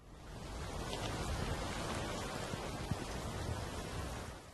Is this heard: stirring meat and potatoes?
no